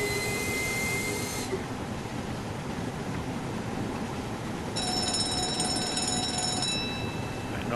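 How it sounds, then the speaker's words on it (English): Steam locomotive cab warning bell in Train Sim World 3 on a Cornwall line: a bright sustained ringing tone that stops after a second, then returns several seconds later over a steady loud rumbling drone of the engine. "Every time that bell goes off, I keep nearly forgetting to acknowledge that."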